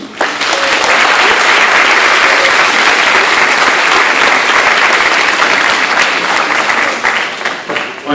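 Loud, sustained applause from an audience at a fifth-grade graduation ceremony greeting a speaker coming to the stage, steady clapping throughout that tapers slightly near the end.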